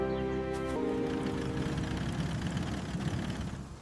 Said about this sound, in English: The afternoon school buses are warming up their engines right over there.